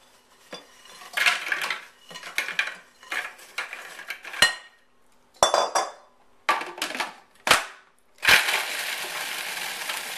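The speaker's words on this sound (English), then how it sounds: "we're going to put the cookies in the food processor and crush them up finely" A food processor whirs in repeated short bursts, crushing cookies with a gritty rattle, separated by brief silences.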